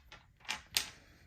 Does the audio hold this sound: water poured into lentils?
no